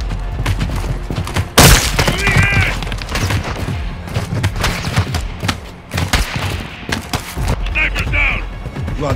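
Gunfire and battle noise in Call of Duty Modern Warfare 2 during a cartel-protection mission: one loud close shot stands out among scattered bursts and thumps, with voices talking and shouting over the busy, continuous din.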